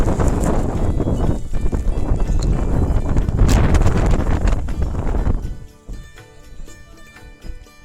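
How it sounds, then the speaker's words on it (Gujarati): Strong wind gusts roar and buffet the microphone at the Saputara viewpoint during light drizzle, loud and steady for about five seconds before easing to a quieter rustle. "ફૂલ છે પવન."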